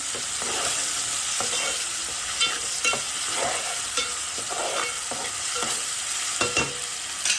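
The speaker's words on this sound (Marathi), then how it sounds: "अर्धा चमचा आले लसूण पेस्ट चांगली मिक्स करून घेऊ आपण" Ginger-garlic paste being stirred into mutton frying in a pan makes a continuous sizzle broken by repeated scraping strokes of the spoon, close and with no talk.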